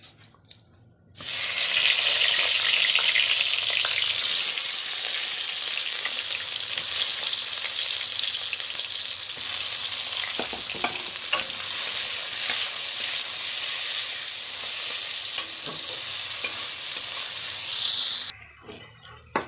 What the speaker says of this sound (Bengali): এবার এতে বেগুনগুলো ভেজে নেব